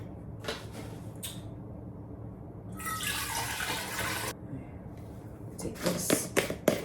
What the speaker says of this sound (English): But I'm gonna fill up my water bottle.